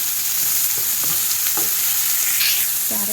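Green chili, garlic and mixed vegetables sautéing in a pan with salt, a steady broadband sizzle running throughout with a few soft stirring scrapes and clinks, close and fairly loud, no voices.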